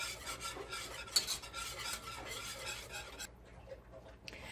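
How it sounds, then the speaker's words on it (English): A whisk scrapes and stirs steadily through a milk, butter and flour sauce in a pot, a close, rasping metallic rhythm that briefly drops away near the end before resuming. "we're going to continue to whisk this"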